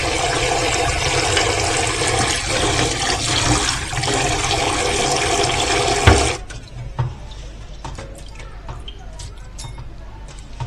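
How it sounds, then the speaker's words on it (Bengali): Dry-roasted mung dal is rinsed under running water, a loud, rushing splash for about six seconds, then quieter trickling and drips afterward. "এবার আমি এগুলা ভালো করে ধুয়ে এক পাশে পানি ঝরার জন্য রেখে দিব।"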